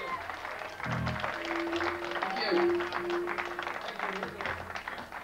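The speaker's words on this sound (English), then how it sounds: "Big round of applause, please." Audience applauding as a bandleader and his Southern Justice Band are welcomed on stage, a steady patter of clapping running under a man's brief spoken thanks.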